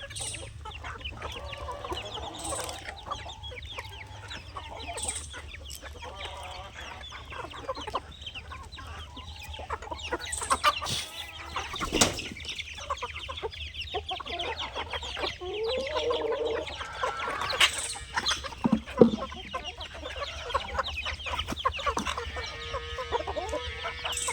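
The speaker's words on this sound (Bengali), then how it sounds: "এটা কিন্তু একটা গলাচিলা, খুবই সুন্দর একটা দেশি মোরগ।" Native Bangladeshi naked-neck chickens and a rooster, kept among backyard fowl, cluck and call repeatedly at close range over a steady low hum, with scattered sharp scratches and rustles, no talk.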